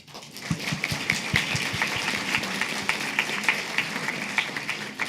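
Applause for ambassadors at a model UN conference hall: steady crowd clapping of many hands, moderately distant, sustained evenly for several seconds.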